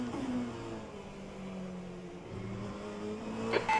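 Race car engines from an endurance event at Bahrain in rFactor 2 drone steadily with shifting pitch, another car audibly drawing alongside and passing, ending in a brief louder rise.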